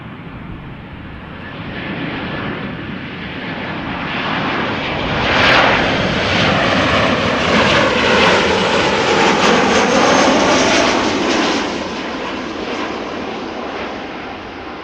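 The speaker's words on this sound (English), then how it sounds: "So this Ryanair is arriving from Dublin." A Ryanair jet airliner arriving from Dublin at Amsterdam Schiphol Airport, landing in a crosswind. Its broad engine roar swells to a peak midway through, holds, then slowly eases off, loud and continuous, with no talking.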